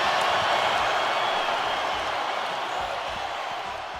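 A large arena crowd roars after a championship win, a continuous wash of cheering and noise that stays loud throughout and eases slightly toward the end.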